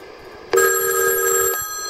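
An electromechanical telephone bell rings on an incoming call on a test line with a tone applier, one sustained metallic burst of about a second that starts abruptly and then stops, loud and close.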